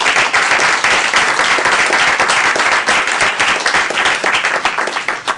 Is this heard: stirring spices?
no